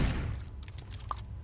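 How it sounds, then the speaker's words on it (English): Shotgun fire in Hitman: Blood Money comes as a few short, sharp blasts spread over a moment, moderately loud with no voices. "Okay, shotgun. That's why I'm in first person. I'm gonna start shooting in first person."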